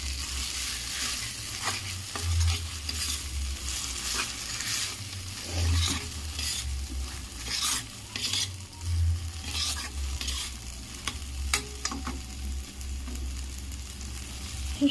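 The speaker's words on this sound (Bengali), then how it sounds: "এবার এটাকে ভালো করে মিশিয়ে নেড়ে চেড়ে নেব।" Flat beans frying in a pan with salt, stirred repeatedly: close, steady sizzling broken by scraping strokes and soft knocks of the utensil at irregular intervals.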